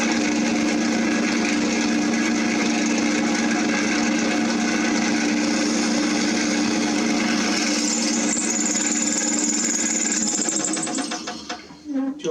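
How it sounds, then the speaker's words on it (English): A power drill runs continuously at high speed, loud and close, drilling out a plastic camera body cap, its whine holding steady before it slows and stops at the end. "We'll drill that out first."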